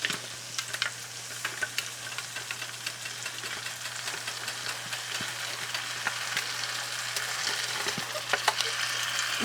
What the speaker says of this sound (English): So we're going to fry this up. You're going to stir all the time because you don't want it to stick to the bottom.